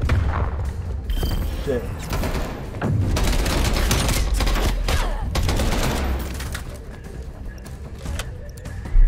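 Gunfire from the video game Call of Duty Black Ops Cold War in a gunfight tournament match, with shots and bursts filling most of the clip under steady game noise while someone talks over it.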